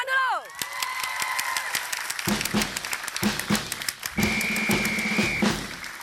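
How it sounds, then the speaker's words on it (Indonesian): A studio audience on an Indonesian comedy show claps in a lively burst under music and sound effects, with voices and a whistle-like tone layered over the applause. "Tepuk tangan dulu."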